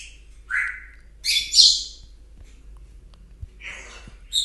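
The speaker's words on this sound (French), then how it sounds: "je suis dans mon salon et j'ai des oiseaux. Donc ça fait un peu de bruit quand même." Pet birds in a living room giving scattered sharp chirps and squawks, a handful of short bursts with quiet gaps between, fairly close and clear.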